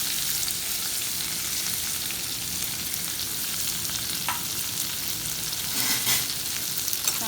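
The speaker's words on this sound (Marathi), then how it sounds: "लालसर होईपर्यंत कांदा परतायचा आहे." Chopped onion sizzles steadily in a pan with curry leaves and coriander, a constant close frying hiss, with a few brief scrapes of stirring near the end.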